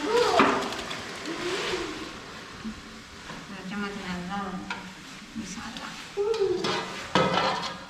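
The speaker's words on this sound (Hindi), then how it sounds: "तो जी चिकन डाल रहे हैं" Chicken pieces for achar gosht go into a hot pot and are stirred, bringing a sizzle with scraping spoon and pan clatter up close, and a person talks intermittently over it.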